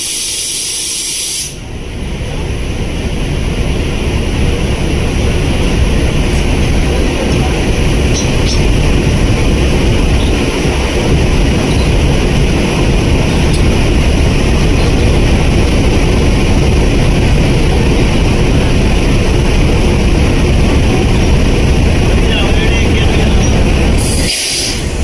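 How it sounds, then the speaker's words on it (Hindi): Hazara Express train arriving at Rawalpindi railway station: a loud, steady rumble with hiss and hum throughout, close by, filling the whole stretch with no talk. "12 डाउन हज़ारा एक्सप्रेस जो है वो आ रही है और 4:40 का इसका शेड्यूल अराइवल है"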